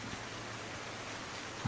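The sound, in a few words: rain in video game Farming Simulator 19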